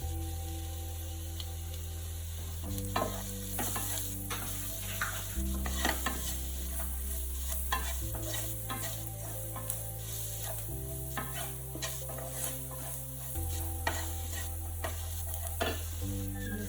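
Chicken steak seasoned with chilli powder and salt frying in a pan, a quiet continuous sizzle with intermittent stirring scrapes and ticks over a low background hum, no talk.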